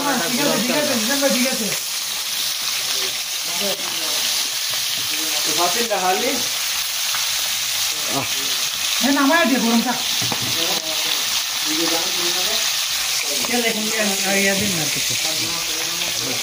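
Fish sizzles and fries in oil on a barbecue, a steady crackling hiss running throughout while a person talks intermittently over the cooking.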